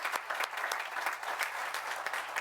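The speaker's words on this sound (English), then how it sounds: "giving Bob Kiley, our commissioner, and all the DPW a round of applause" An indoor audience at a town swearing-in ceremony and organizational meeting claps steadily and warmly, a dense, continuous round of applause at moderate distance with no talk over it.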